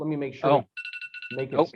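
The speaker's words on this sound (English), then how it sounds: "That was my phone telling me that I've got a presentation this morning." A phone alarm reminder rings in a short run of repeated electronic tones during a pause in an online discussion, with people talking on either side of it.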